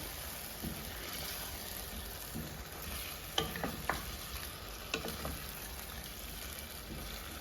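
Masala with yogurt stirred in a pan over a high flame for chicken degi aloo gosht, giving a steady close sizzle broken by a few sharp scrapes of the spoon against the pan.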